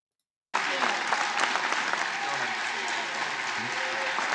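Clapping breaks out on the Democrat side of a legislative chamber after a brief silence, sustained applause from many hands with faint voices mixed in.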